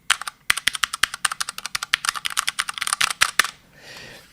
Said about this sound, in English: this keyboard has Cherry MX Brown switches with silencers